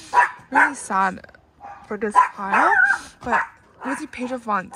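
A small pet dog yips, whimpers and barks in short bursts indoors while someone talks steadily over it, the dog close and fairly loud.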